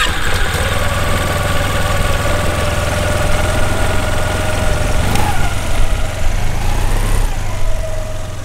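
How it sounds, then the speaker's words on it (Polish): A paramotor engine runs at a steady idle, loud and close, with a continuous low mechanical drone that stays even throughout and has no talk over it. "pokaż, jak się uruchamia ten silnik"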